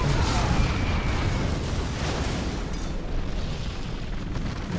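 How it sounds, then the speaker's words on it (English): Carpet bombing in the strategy game Hostile Dawn erupts as a dense, continuous roar of overlapping explosions and booms, loud and sustained throughout with no gaps. "here comes another carpet bomb to take him out"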